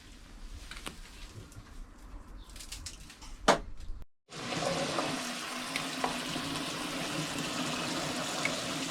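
Parsley being washed under a running tap, a steady broadband rush of water with soft splashing that starts abruptly after a brief pause and continues evenly, close by and moderately loud.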